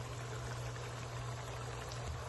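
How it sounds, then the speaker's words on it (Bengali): Rinse water from a bowl poured into a frying curry masala of spices and raw tomato for chicken-egg curry, a steady continuous pouring and sizzling wash, fairly even and alone. "বাটি ধুয়ে পানিগুলো দিয়ে দিলাম।"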